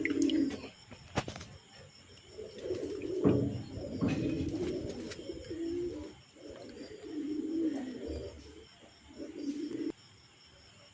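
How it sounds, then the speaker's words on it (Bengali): Pigeons coo in repeated low, throaty phrases, close by, with some wing flutters and knocks between the calls and no talk. "দেখুন এরপর পায়রাগুলো একে একে এসছে"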